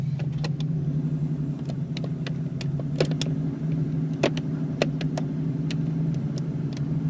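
A 1972 Ford Mustang Mach 1 with a loose, faulty transmission and shifting linkage runs steadily in reverse, its low engine drone continuous and close, broken by scattered sharp clicks and knocks.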